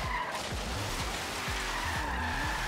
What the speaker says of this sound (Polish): Ten samochód driftuje na tych niskich prędkościach strasznie.